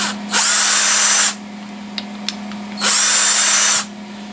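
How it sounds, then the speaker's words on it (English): A power tool deburring and chamfering a steel clevis for a master cylinder push rod, two loud one-second bursts of high whirring grind separated by a pause with a couple of faint clicks, under a steady low hum. "I'll just give it a little deburring, a little chamfer there."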